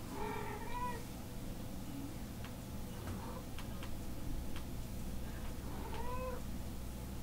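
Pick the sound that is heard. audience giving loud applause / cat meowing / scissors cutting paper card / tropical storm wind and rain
cat meowing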